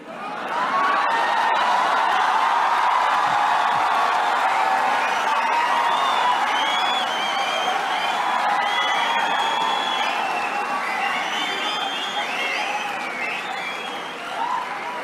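Large crowd at a political rally with the chief minister, Yogi, applauding and cheering loudly and steadily for about fifteen seconds, with whistles and shouts over dense clapping that eases slightly toward the end.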